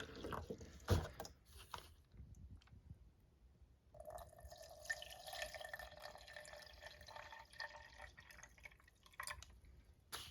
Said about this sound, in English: put water in the tank.